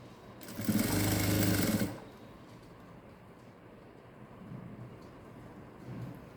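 A sewing machine runs a short burst of stitching on a blouse lining, a loud, close mechanical whir lasting about a second and a half, then stops into quiet room noise.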